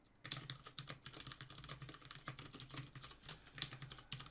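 Steady, rapid typing on a computer keyboard while writing code, with quiet, close key clicks in an irregular rhythm and no talking.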